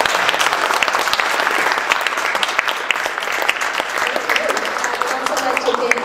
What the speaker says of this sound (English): Can we have a round of applause for our awesome panelists?